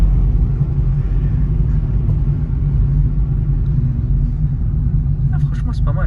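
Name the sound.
Renault Clio 4 car driving, interior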